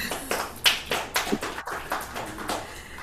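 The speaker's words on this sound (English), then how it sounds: "Can we clap for her?" A small audience at a CIES 2026 session on teacher education reform in Africa gives a short burst of scattered hand clapping, a few distinct claps close by.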